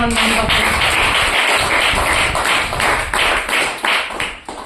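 An audience claps hands together in praise of God at a Christian gathering, a loud, steady run of sharp overlapping claps that carries on for several seconds before thinning out.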